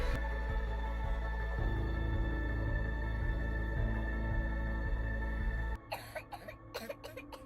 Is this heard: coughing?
yes